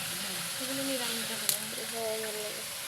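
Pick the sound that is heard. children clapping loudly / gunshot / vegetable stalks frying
vegetable stalks frying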